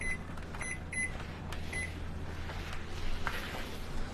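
A kitchen timer beeps a few short, thin tones while a Southwestern rice dish of beans and corn cooks under a lid, over a steady low background hum.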